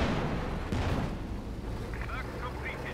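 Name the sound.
Stuka barrage explosions in a video game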